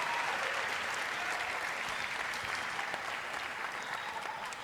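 An E3 2018 conference audience claps and cheers steadily throughout, a dense, even wash of applause filling the hall from start to finish.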